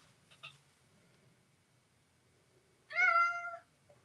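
Indoor house cat lets out a single clear, drawn-out meow about half a second long after near silence, close to the microphone, with a faint click just before it.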